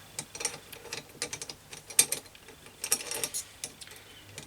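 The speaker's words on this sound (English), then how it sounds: "Just try to take the grub screws out there." Grub screws are worked out of an internal throttle on handlebars, giving faint, irregular metallic ticks and small clicks from a tool, close and quiet with no talking.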